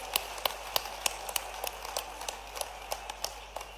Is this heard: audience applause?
yes